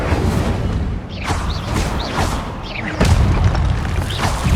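Blasts from the Incendio fire spell in the Hogwarts Legacy video game land as several loud booming whooshes with crackling tails, spaced about a second apart, the last one heaviest.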